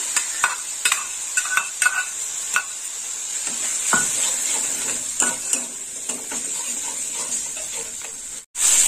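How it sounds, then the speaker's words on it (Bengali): Onion paste fries in oil, a steady close sizzle punctuated by repeated scraping and clinking of a spatula against the pan, with a brief sharp clatter near the end. "পেঁয়াজটা একটু লাল লাল করে ভাজা হবে।"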